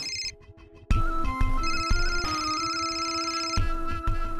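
An electronic ringtone plays a sustained melodic pattern of tones, starting after a brief quieter moment and continuing steadily throughout.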